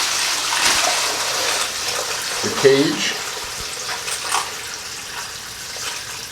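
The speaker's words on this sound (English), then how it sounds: "Put a little water in there" Water pours into a container holding brass cartridge cases for rinsing, a soft splashing and gurgling trickle under a man's nearby speech.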